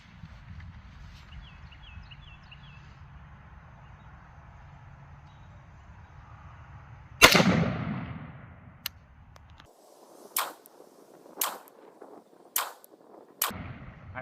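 Rifle shots fired at 25 yards from an AK-pattern rifle with a red dot, one loud near blast followed by several sharper, spaced cracks after a steady background rumble.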